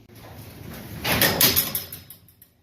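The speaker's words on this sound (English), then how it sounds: "Now I'm going to close my door." A residential garage door closes during a dry run after its emergency release latch is reattached, giving a moderately loud, rumbling, scraping slide that rises midway, holds for about a second and fades out.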